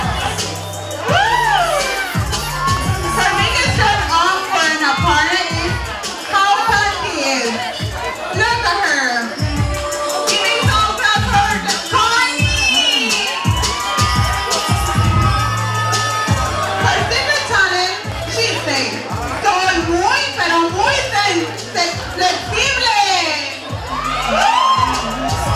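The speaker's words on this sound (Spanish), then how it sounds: "¡Aplausos para Lenny González!" A loud crowd at a bikini contest cheers, whoops and shouts for a contestant, with steady babble and a booming announcer's voice throughout.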